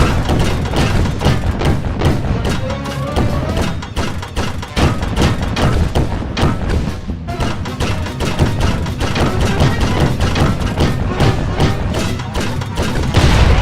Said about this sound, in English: These guys know the Murray plus a cannon equals destruction